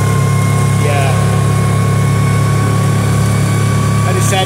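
An ATV engine runs steadily while riding on a freezing day, a constant loud drone with a low hum and faint whining tones, close and unbroken throughout.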